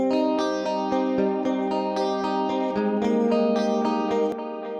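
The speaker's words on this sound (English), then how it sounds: "I just immediately run it through modulated delay" An electric guitar plays a repeating picked pattern soaked in modulated delay at 25% mix, echoes shimmering with a chorus-like wobble, loud and steady with no voices.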